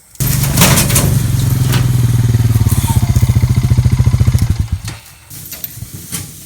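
A four-wheeler engine starts nearby and runs with a loud, rough, pulsing putter for about four seconds on a small pig farm, then cuts off abruptly, followed by faint clicks.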